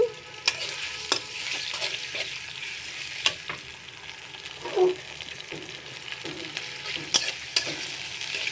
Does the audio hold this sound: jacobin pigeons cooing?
no